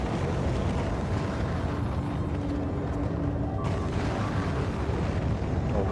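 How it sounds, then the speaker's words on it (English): A steady, dense roar of rockets launching in the video game Factorio Space Age, a loud continuous rumble with no breaks and no voices. "this is still launching a bunch of rockets"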